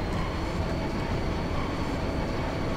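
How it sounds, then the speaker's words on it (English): A train in Final Fantasy VIII departing for Delling City, a steady, dense rumbling roar of rolling rail noise that stays loud and even throughout. "This train bound for Delling City will be departing shortly."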